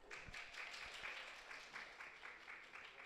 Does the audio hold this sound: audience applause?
yes